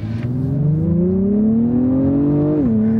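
A fast car's engine revs steadily upward under acceleration on a bumpy road, a loud, close, rising drone that climbs smoothly for nearly three seconds before dropping sharply at a gear change, with no voices over it.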